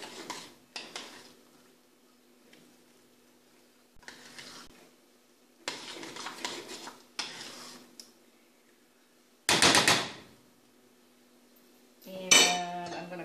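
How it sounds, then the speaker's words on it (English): A spoon stirring flaxseed into cooked oatmeal in a bowl, soft scattered scrapes and clinks in short bursts with quiet pauses, ending in a louder clatter. "I am just going to stir the flaxseed in"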